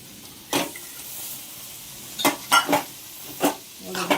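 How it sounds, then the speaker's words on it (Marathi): Spiny gourd stir-fried with masala in a pan: a quiet steady sizzle under a handful of sharp, close spatula scrapes and clatters spread irregularly across the moment. "आता हे कंटरले टाकायचे"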